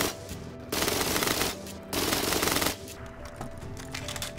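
A rifle loaded with explosive ammo fires in long, rapid, loud bursts at a base during a solo raid in Rust. Two sustained volleys are followed by steadier continued shooting, with no talk.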